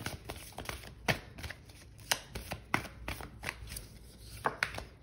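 Tarot cards are shuffled quietly at close range, with soft papery riffles and sharp snapping taps at irregular intervals over a faint background hiss. No one speaks.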